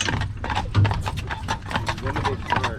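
A horse pulling an Amish buggy in Lancaster County, Pennsylvania clip-clops in a steady, close hoof rhythm on the road, heard under people talking.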